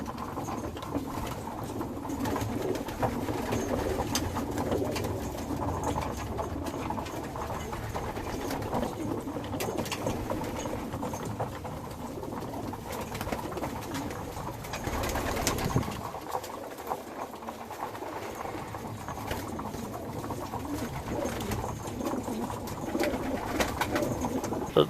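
Several young racing pigeons coo repeatedly during feeding in a loft, soft low murmurs that overlap at close range with light pattering and rustling behind them.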